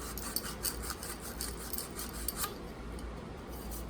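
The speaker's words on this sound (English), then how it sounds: "You saw me deburr the pipe" Deburring the cut end of a 3/4 inch copper pipe in a cold warehouse boiler build, giving a faint, steady scraping rasp with rhythmic strokes throughout.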